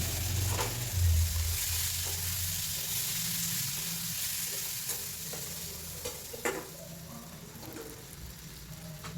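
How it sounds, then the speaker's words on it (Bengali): Fried tomatoes stirred into a spice mix for a fish curry, a steady sizzle of frying with a spoon scraping and stirring throughout, close and alone with no talk. "সবগুলো একসঙ্গে খুব ভালো করে নেড়ে চেড়ে কষিয়ে নিতে হবে"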